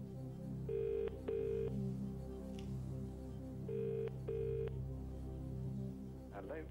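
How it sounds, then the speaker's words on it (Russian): A telephone rings on an outgoing call in a UK quiz show studio, two paired electronic ring bursts repeating twice over a quiet, steady background hum. "Ладно, звоним Тиму."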